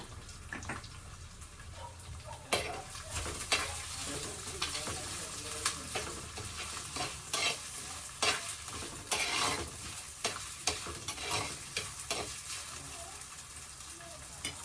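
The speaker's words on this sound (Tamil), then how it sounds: "இது நல்லா ஃப்ரை ஆகும்." Seafood fries in garlic-infused oil in a pan, a continuous close sizzle and crackle with bursts of stirring and scraping spread across the stretch, fairly quiet overall and without talk over it.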